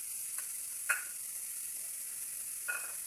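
Minced garlic, onion and long chili sauté in a pan for spicy tuna spaghetti, giving a faint steady sizzle with a few soft clicks of a utensil.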